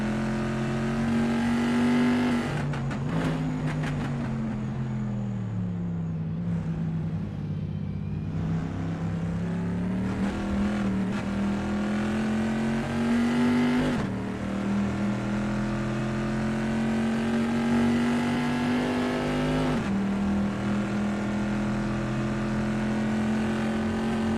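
A Bizzarini race car in a racing video game laps Imola, its engine droning loud and steady with pitch dipping and climbing through gear changes and corners, the roar continuous throughout.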